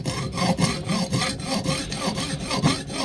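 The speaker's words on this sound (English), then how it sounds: "It's going quite quickly with the hacksaw, so I'm pleased." A hacksaw cutting through sections of a cast temple model, rapid rhythmic back-and-forth rasping strokes at about three per second, close and loud with no talking.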